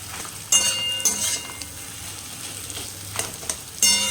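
Salted potatoes sautéing in a pan, a low constant sizzle broken by several sharp clinks and scrapes of a spatula on the metal, close and without talk.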